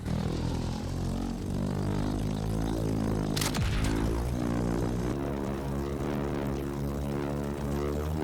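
Vehicle in the video game Borderlands 4 droning steadily with a dense, harmonic engine hum and a brief sweeping whoosh partway through, sustained and fairly loud throughout.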